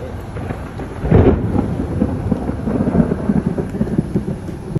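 Thunderstorm with a rolling rumble of thunder over steady rain on surfaces, continuous and fairly loud with no voices.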